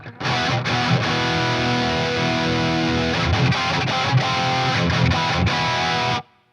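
Electric guitar played through an EVH 5150III Hypersonic amplifier at high gain set to a sweet, rounded tone, a dense, saturated riff ringing out steadily and loudly for about six seconds before cutting off.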